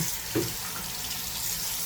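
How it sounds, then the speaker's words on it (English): A broom's bristles are rinsed under a running water tap at a sink, giving a steady, close, even splash and hiss with a brief gurgle early on. "Just run it under some water."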